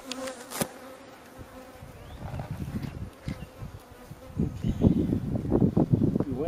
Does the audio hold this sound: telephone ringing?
no